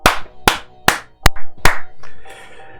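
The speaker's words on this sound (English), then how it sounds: "A little round of applause." A handful of sharp, loud claps ring out in an uneven rhythm, followed by a brief scattered rustle.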